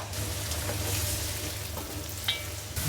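Onions frying in soybean oil and ghee for biryani, giving a loud, continuous crackling sizzle close by, with a brief stir near the end and no talking.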